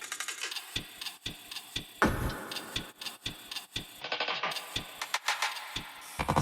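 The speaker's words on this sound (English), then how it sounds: "what I did here was kind of some glitchy sounding percussion" Glitchy electronic percussion built in Ableton Live: stuttering clicks, ticks and short noisy bursts in a choppy, uneven rhythm, dense and close, with no voices.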